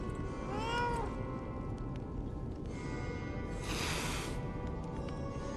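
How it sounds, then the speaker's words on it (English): A cat meows in the video game Lies of P, a short rising-falling cry standing out over steady low game ambience, followed by a brighter noisy burst a few seconds later. "There's a cat."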